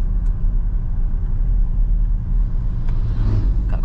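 Toyota Innova Reborn in eco mode pulling away after the clutch is let out, driving at night: a steady low engine rumble and road hum heard from inside the cabin, rising slightly toward the end.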